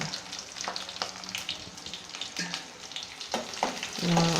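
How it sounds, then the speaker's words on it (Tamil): Small shallots frying with fennel seeds in oil for a spicy mutton gravy, a steady close sizzle broken by clinks and scrapes of a spoon against the pan. "சின்ன வெங்காயம் ஒரு 4-5 பீஸ் கட் பண்ணி வச்சுருக்கேன், அது சேர்த்துக்கலாம்"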